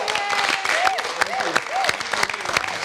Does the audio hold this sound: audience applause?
yes